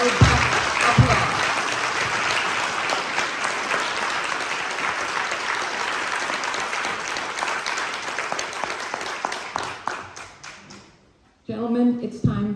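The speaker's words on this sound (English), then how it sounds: "Let's give them another round of robust applause" An audience at a county commissioners candidate forum applauds the candidates, a dense, steady wash of clapping for about eleven seconds that thins and fades out, followed by a voice speaking.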